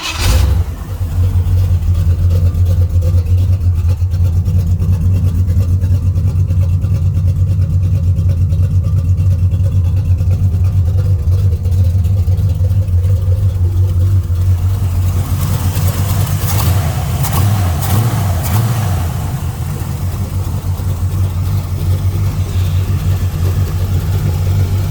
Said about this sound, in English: let's start it up again and see how it revs